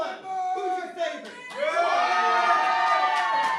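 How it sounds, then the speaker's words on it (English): A wrestling crowd at an IWE BattleZone event cheers and shouts loudly for Stuntman Mike, a brief dip then a swelling roar of voices and whoops that stays strong to the end. "Crowd clearly behind Stuntman Mike right now."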